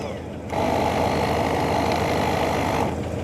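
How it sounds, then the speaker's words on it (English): A car battery charger's built-in air blower switches on about half a second in and runs as a steady, loud whooshing hum that holds for close to three seconds, then eases off slightly near the end. "It's got an air blower, blowing air out of there."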